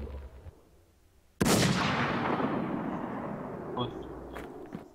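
A single loud video-game gunshot cracks sharply and leaves a long echoing decay, with faint game sounds and small clicks afterward.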